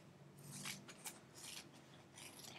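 Scissors snipping through craft foil, several short close crisp cuts in a quick uneven rhythm, fairly quiet with no talk.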